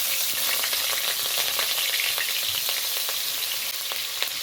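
Onion paste sizzling in hot oil, a steady close crackle and hiss with occasional spatters, carrying on without pause.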